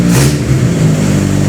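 A Toyota 4AG engine revs as the throttle pedal is pressed, with a steady mid-pitched engine drone held close and loud for the whole moment.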